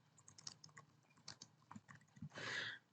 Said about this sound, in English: and then typing in a note